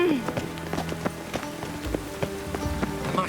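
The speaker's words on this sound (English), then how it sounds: "Rain makes this city even more dreary." Steady rain falling over a city in The Witcher 3, a constant wash of droplets with scattered hollow knocks and footfall-like taps, under faint background voices.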